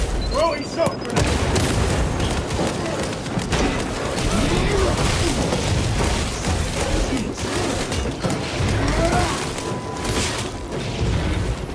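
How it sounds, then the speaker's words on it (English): A shock grenade goes off in the Space Marine 2 video game: loud, dense booms and crashing bursts mixed with rapid gunfire-like crackle, continuing almost without pause. "Throwing shock grenade!"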